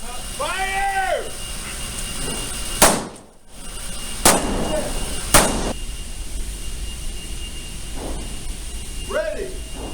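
Three sharp, loud pistol shots crack out at an outdoor shooting range during a basic pistol fundamentals class, spaced a second or so apart, with a shouted voice before the first and another near the end.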